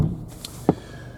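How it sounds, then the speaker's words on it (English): A Jaguar F-Pace R-Sport door swinging shut, a single soft, muffled thunk heard close by against quiet surroundings. "We'll close the door."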